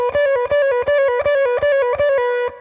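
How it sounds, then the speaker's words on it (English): A distorted electric guitar plays a quick repeating lick of fast pull-offs, rapid notes in tight even groups that loop several times, clear and alone. "Just practice getting these pull-offs timed nicely."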